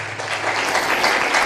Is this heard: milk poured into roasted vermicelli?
no